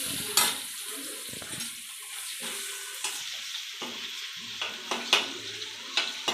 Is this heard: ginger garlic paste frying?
yes